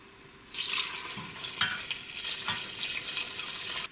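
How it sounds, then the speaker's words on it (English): Water pours steadily into a pot of asparagus soup, a close, continuous splashing rush that starts abruptly and carries on with small clinks against the pot. "now I will add in my water."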